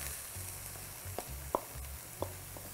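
Meat and chopped onions fry in a pan for a home-style lasagna, giving a steady low sizzle with a few brief pops and stirring scrapes spaced through the mix.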